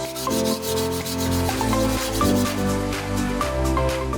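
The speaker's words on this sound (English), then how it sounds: "Sand the broomstick to smoothen it." A wooden broomstick being sanded smooth to make a spear shaft, with steady, close rubbing strokes in a continuous rasping rhythm that carries on for the whole stretch.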